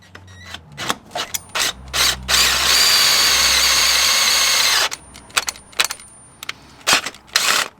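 Power drill tapping a thread on a Renault Megane RS 250, one sustained whine of a few seconds between clanks and short bursts of tool handling, loud and close.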